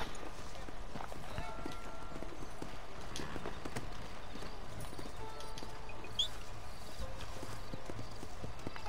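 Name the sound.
horse galloping, from a video game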